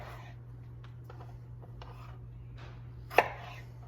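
A knife chops salad vegetables on a cutting board, a few soft scattered cuts ending in one sharp, louder chop, over a steady low hum of a home kitchen.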